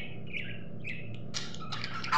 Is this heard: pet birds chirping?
yes